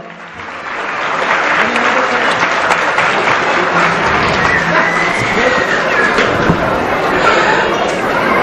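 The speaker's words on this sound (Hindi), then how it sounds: "तो सारे बच्चे अपनी मैम के लिए तालियां बजाएंगे" Children at a play-way school annual function applaud their teacher in a loud, sustained wave of clapping that swells and holds, mixed with crowd chatter and a voice over a speaker system.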